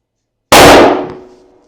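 A single close, very loud gunshot from a .35 Whelen Ruger Hawkeye African rifle: a sharp blast after half a second of silence, then a decaying ring that fades over about a second.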